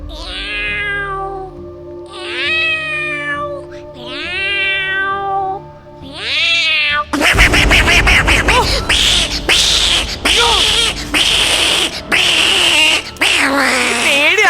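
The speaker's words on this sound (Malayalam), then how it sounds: "2 പൂച്ചകൾ തമ്മിൽ കടിപിടി കൂടുന്നു." Two cats fighting: long drawn-out meows give way to loud, harsh overlapping yowls and snarling caterwauls, close and intense in repeated bursts.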